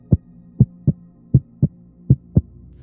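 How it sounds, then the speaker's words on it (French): Heartbeat sound effect for a spooky children's audio story, seven soft, low thumps in an uneven double-beat rhythm against a quiet, still background. "Un silence d'église pesait partout, brisé seulement par le bruit de son propre cœur."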